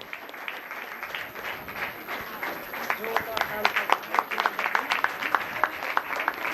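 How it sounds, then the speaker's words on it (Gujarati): Steady applause from a women's gathering honouring degree-holding and award-winning women, a dense continuous clapping that swells slightly toward the end, with a voice faintly underneath. "આપ સર્વે બહેનો જોરદાર તાળીઓથી અભિવાદન થઈ જાય"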